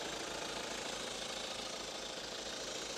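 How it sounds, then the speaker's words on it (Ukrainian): A 2.2-litre diesel engine of a Hyundai Santa Fe 2.2 CRDI idles steadily with an even, rapid knocking rhythm, loud and close, with no voices. "Бачите, мотор працює чітко, рівненько."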